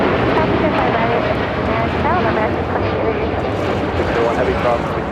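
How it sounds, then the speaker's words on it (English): An Aeromexico Boeing 787-9 Dreamliner takes off at LAX for Mexico City, a steady loud jet roar with broadband rumble. "This is Aeromexico 647 taking off to Mexico City on a 787-9 Dreamliner."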